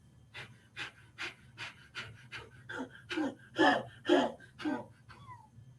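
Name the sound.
forceful exhaling breathing exercise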